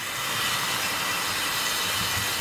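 A steady, continuous hiss and rumble of a model locomotive's small motor running along a track, even and unbroken with no voices.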